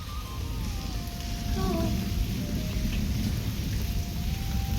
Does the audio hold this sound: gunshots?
no